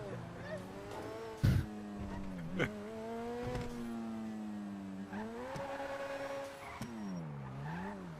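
A car is driven in a video game, its engine tone climbing and dropping as it revs and shifts, with a couple of sharp thumps and voices talking over it.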